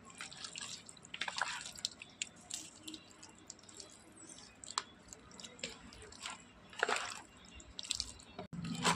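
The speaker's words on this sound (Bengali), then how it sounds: "একটুখানি মাংসগুলোকে হাত দিয়ে এরকম করে দেবো যাতে মাংসর মধ্যে ভালোভাবে মশলা ঢুকে।" Meat being mixed with spices by hand makes close, wet squishing and slapping sounds in irregular bursts, fairly loud and with no talking.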